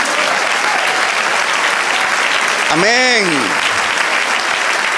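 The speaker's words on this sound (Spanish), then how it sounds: "Da otro aplauso al Señor." A church congregation applauds loudly and continuously, a thick, steady wall of clapping. A single voice calls out briefly in the middle.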